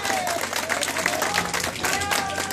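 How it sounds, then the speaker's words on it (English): Warm audience applause for the show's founders at the opening of a Motown 5 evening, a steady wash of clapping mixed under music and a host's voice. "give a nice warm hand clap to the founders of this production"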